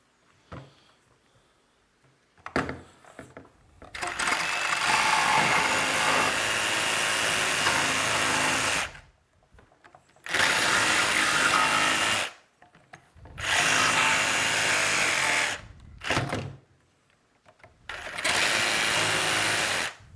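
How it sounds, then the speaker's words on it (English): A jigsaw cuts through PVC in three long, loud, close bursts of buzzing, rasping strokes, separated by short silent pauses. "Ooh, I'm jacking this jigsaw blade."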